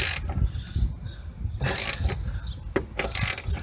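Ratchet wrench tightening a bolt on the rear strut of a 2002 Chevrolet Cavalier, a series of close clicking ratchet bursts in short uneven strokes with brief pauses between them.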